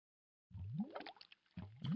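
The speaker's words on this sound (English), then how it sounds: "Water dripping." Two soft watery drips, each a small bloop with a gurgle, separated by a short pause, heard quietly on their own.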